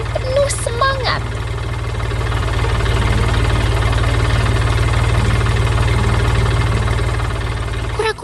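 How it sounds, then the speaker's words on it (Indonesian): A cartoon green tractor hauling a truck full of colorful farm produce on a farm, its engine giving a steady, loud, throbbing idle rumble that runs unbroken throughout, with a few brief higher squeaks near the start. "Traktor hijau sedang mengangkut truk penuh bahan pertanian yang berwarna-warni"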